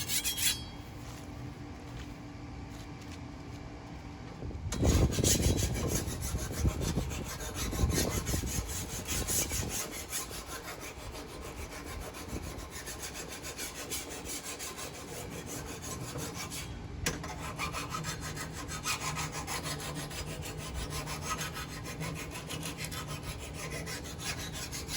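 Garden tools are sharpened by hand with a file or saw, giving quiet, continuous rasping strokes; a denser burst of scraping comes around the middle, with no talk.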